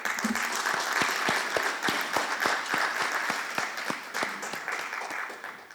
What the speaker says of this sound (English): I welcome him on the stage with a huge round of applause.